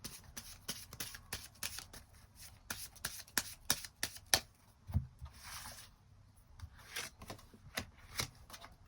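Tarot cards shuffled by hand in a quiet room, a steady run of close, crisp riffling snaps and soft slides, with no talking.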